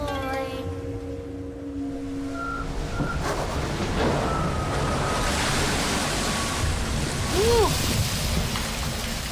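Sea waves slap and wash against a sailing boat, a loud, continuous rushing splash close by with occasional sharper surges, alongside some beeping electronic tones.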